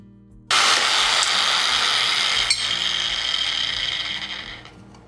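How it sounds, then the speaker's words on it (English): A mini belt sander with 80 grit sandpaper grinds a weld bead off a metal tube, starting abruptly into a loud, steady abrasive whir that softens slightly toward the end. "using some 80 grit sandpaper on my mini belt sander just grinds it right off"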